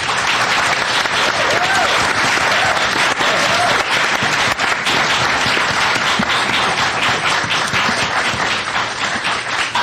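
Loud, sustained applause fills a public forum hall after a presentation on Golden Gate Park, dense clapping from a large audience that runs unbroken for the full ten seconds.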